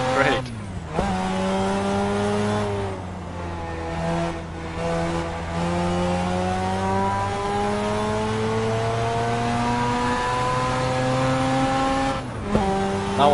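Race car engine in the driving game Assetto Corsa, run with an H-pattern shifter and heel-and-toe downshifts. It drones loudly and shifts pitch up and down through gear changes, with a few sharp revving blips, and there is no talking.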